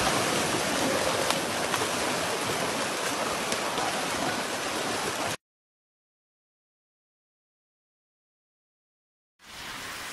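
Heavy rain in Ubajara in the Serra da Ibiapaba, a loud, steady roaring downpour that cuts to silence partway through and then returns.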